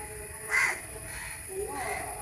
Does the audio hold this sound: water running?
no